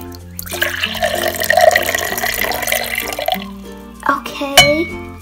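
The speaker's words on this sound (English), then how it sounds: "We need to add 100 mils of vinegar." Vinegar is poured into a container for an elephant toothpaste experiment, a close trickling, liquid gurgle for a few seconds followed by a brief glassy clink and splash.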